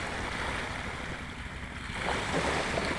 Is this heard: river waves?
yes